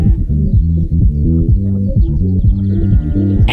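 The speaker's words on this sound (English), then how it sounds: "So, if a pigeon listens to some music, it could sound like this." Music filtered down to only its low frequencies, as a pigeon might hear it: a muffled, throbbing bass line and low notes pulse steadily, loud and dull, with no voice over it.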